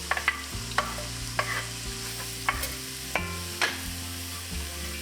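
Onions, carrot and celery sizzle in a pot over medium-high heat, with scattered clinks and scrapes of stirring over a steady frying hiss.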